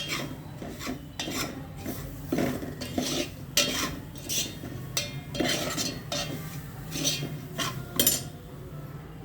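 Jaggery melting in a pan on low heat while a spoon stirs and scrapes it, rhythmic rasping strokes with light metallic clinks, close and steady, with no talk.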